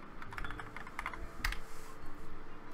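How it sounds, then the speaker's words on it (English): Keys clatter on a computer keyboard in quick irregular bursts, close and fairly clear, over a faint steady room hum, with no talking. "type in app data right here"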